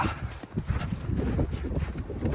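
Steady gusting wind on a mountain at Bukovel buffets the microphone with a low, rumbling roar that rises and falls continuously.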